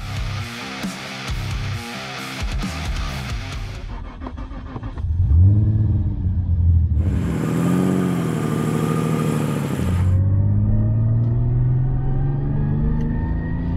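Nearly 1,000-wheel-horsepower Nissan R32 Skyline GT-R street car engine rumbling loudly and steadily, with a harsher burst of revving in the middle and a rising tone toward the end.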